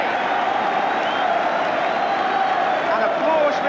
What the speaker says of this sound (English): applause ringing round the stadium for the Arsenal goalkeeper